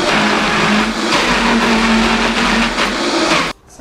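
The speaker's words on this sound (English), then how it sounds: "You need a high-powered blender, like a Vitamix or a Blendtec, or a conventional blender won't do the trick." A high-powered Vitamix or Blendtec blender churns a thick smoothie bowl mixture with a loud, steady motor whir and grinding, shifting slightly in pitch before cutting off abruptly near the end.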